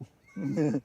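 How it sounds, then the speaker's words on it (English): A sheep near a Manchester Airport plane-spotting spot bleats once, a short wavering cry that is fairly close and clear, with a brief word spoken just before it. "Sheep behind."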